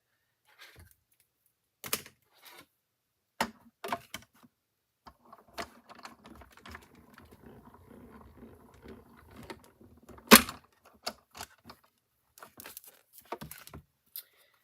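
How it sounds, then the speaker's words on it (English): A greeting card is run through an embossing machine, giving scattered cranking and pressing clicks with a low mechanical rumble in the middle and a few sharp snaps, close and fairly quiet. "I'm going to go ahead and cut this out,"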